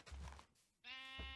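Sheep in the video game Minecraft bleat twice in quick succession, short close nasal cries with no talk over them.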